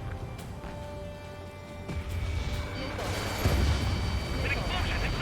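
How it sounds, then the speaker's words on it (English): A deep explosion booms and rumbles over Ace Combat 7 game background noise and gunfire, swelling louder toward the end. "An explosion inside!"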